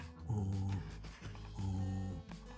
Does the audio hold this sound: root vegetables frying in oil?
no